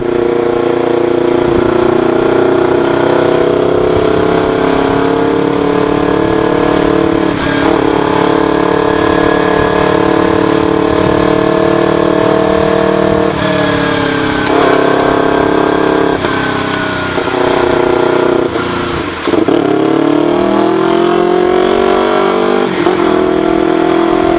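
A Yamaha R25 motorcycle with an Akrapovic Racing Line exhaust, loud, deep and rumbling, idling and revving repeatedly close by, the pitch rising and falling with each throttle blip.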